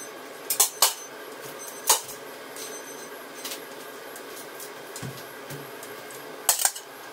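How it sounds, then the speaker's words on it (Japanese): Linguine is tossed in a frying pan with a creamy sauce of large fresh shiitake mushrooms, heard as a few sharp metallic clinks and scrapes scattered over a quiet kitchen background. "リングイネをフライパンに入れて、パスタ油も濃度調整で入れて混ぜる"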